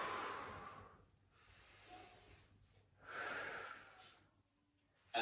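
Slow breathing during a wall Pilates workout, with two long, soft breathy exhales close to the mic separated by quieter pauses and no talking.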